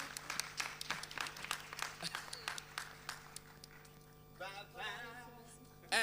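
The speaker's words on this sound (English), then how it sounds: "a round of applause for Somizi Mhlongo" Audience applause for Somizi Mhlongo at an arts creative summit, a burst of clapping that fades after a few seconds, followed by a host's voice and a loud thump at the end.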